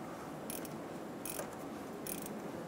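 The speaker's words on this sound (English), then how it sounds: "Using a wrench, snug it down." A wrench snugs down a power steering pressure hose fitting on a 2007-2012 Nissan Altima, giving three short clicking ratchet-like bursts spaced about a second apart over a steady low background hum, no talk.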